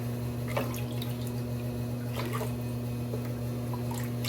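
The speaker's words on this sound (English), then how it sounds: "I'm gonna get the brush wet here" Water splashes and drips as a shaving brush is wet, with faint intermittent trickles and drops over a steady low mains hum, no one talking.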